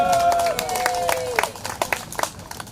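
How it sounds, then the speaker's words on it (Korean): Scattered clapping from a crowd at a Korean patriotic rally in Houston, several sharp claps standing out near the end as a loud voice with a sustained, shouted tone rings over the start. "달라스 애국동지 회장님에게 여러분의 뜨거운 박수가 필요합니다."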